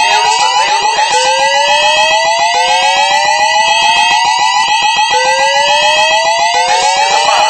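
A fire alarm blares loudly and without pause inside Master Mall, with rising electronic sweeps repeating every second or so over a constant high tone, and no voice.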